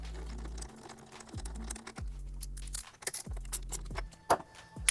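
A bolt being run down by hand on a frame slider bracket of a 2019+ Honda CB650R motorcycle, giving repeated short metallic clicks and scrapes in an uneven rhythm, close up with no talking.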